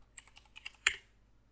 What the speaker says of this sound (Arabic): نمشي جوجل نكتب جوجل فونت